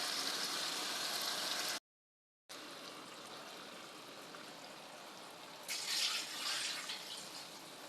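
Water pours steadily into a cooking pot of fried masoor dal for pulao, a continuous close rushing stream with a brief cut midway and a louder splashy surge near the end.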